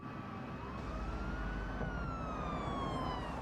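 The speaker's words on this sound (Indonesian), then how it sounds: "lalu ia melihat mobil ambulans menyusulnya" An ambulance siren wailing steadily over a low engine rumble, its pitch slowly rising and falling as the ambulance passes, with no one speaking.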